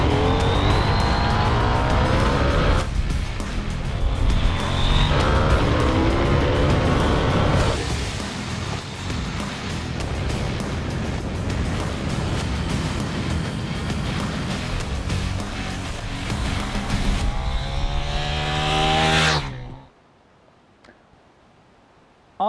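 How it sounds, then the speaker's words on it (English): A 2020 KTM 890 Duke R motorcycle accelerates hard along a mountain pass, its engine rising and falling through repeated revs and gear changes before cutting off abruptly near the end. "wind the throttle open and see what she does."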